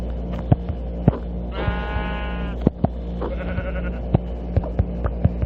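Sheep bleating in Minecraft, a few short wavering calls from animals spawning together, heard over a steady game hum and scattered clicks.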